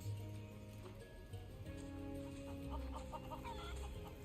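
Chickens cluck in a video game, a steady run of soft, busy fowl calls over a constant musical game background, with faint talk mixed in.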